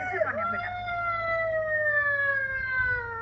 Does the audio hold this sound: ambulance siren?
yes